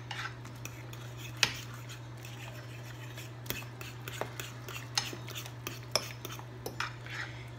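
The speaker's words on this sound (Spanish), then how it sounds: "Aquí lo vamos a revolver muy bien." A fork stirs a bread pudding mixture of bread soaked in liquid in a bowl, making repeated light clinks and scraping taps against the dish in an irregular rhythm over a steady low hum.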